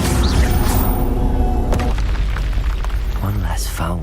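Confringo fire spell blasting in the Hogwarts Legacy game, a burst of explosive booms over busy music and combat noise, with a voice talking partly over it.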